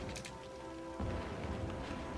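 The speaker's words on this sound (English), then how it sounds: "Always rains in this city." Rain in the city-building game Cities: Skylines, a steady soft patter of drops on surfaces over a low background hum that shifts slightly partway through.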